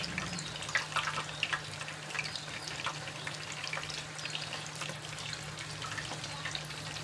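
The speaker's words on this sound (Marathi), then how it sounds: "लो फ्लेमवरतीच तळून घ्यायचं अगोदर तेल छान तापू द्यायचे" A potato katori (lachha katori) frying in hot oil on a low flame, a soft, even bubbling sizzle with a low steady hum underneath, fairly quiet and continuous.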